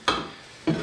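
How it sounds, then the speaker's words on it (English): A part on a Maico 660cc two-stroke dirtbike build scrapes at the bottom of its travel, giving two short, gritty scrapes about half a second apart. "whenever it comes down to the bottom, listen, you're scraping"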